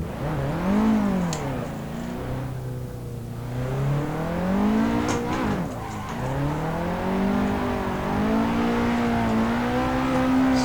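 A Drift Workshop 180SX drifting in Assetto Corsa, its engine revving and wailing up and down continuously as it slides, loud and close with no talk over it.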